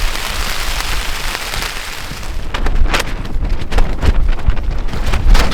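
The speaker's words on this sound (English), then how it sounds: "It's raining crazy right now." Heavy storm rain in Iceland beats steadily on a tent or surface along a hiking trail, a dense close hiss with wind gusts buffeting the microphone and scattered louder drop impacts.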